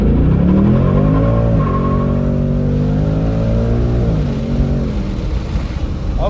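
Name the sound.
2024 Ford Mustang GT accelerating 0 to 60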